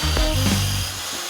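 A wire wheel spins against the rusty hub face of a 2015-2020 Ford F150 during a brake job, a short, loud whirring grind that bites briefly and then eases off.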